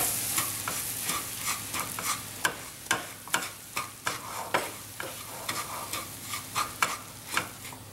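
Macaroni and cheese being stirred in a pan while it cooks, with a utensil scraping and clacking in a steady rhythm of about a dozen strokes over a soft sizzle, fairly quiet and close, with no talking.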